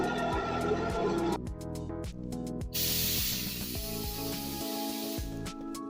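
Black Speedacoat epoxy primer sprays from an aerosol can in a long, steady hiss that starts a few seconds in and carries on under ongoing background music.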